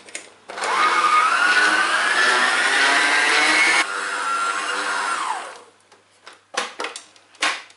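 A food processor or blender runs loud and steady while mixing Paris-Brest ingredients, its motor whirring with a slowly rising pitch, then shifting lower before spinning down, followed by a few short pulsed bursts.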